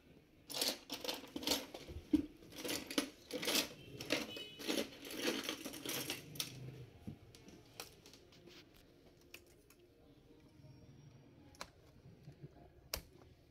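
Laptop keyboard pried out during disassembly: a run of rapid plastic clicks, snaps and rattles for several seconds, then sparser isolated clicks and taps, close and unaccompanied by talk.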